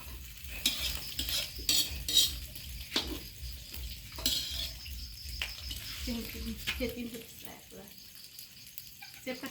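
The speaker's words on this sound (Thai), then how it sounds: "ตอนนี้ก็กำลังทอด" Mushrooms frying crispy in a pan, a steady sizzle broken by repeated stirring and scraping clatter of a utensil against the pan, close up, with talk in the background.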